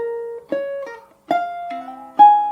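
Fingerstyle ukulele slowly picking measure 5 of a jazz piece, single notes and chords plucked one by one with gaps between them, close and clear with no talk.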